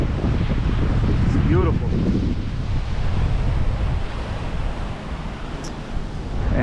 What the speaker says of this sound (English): We are here in Punta Borinken Beach